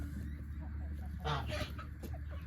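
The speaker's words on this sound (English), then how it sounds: "He's a beautiful Dominique rooster." A Dominique rooster and hen cluck nearby, short soft bursts of fowl calls over a steady low background hum.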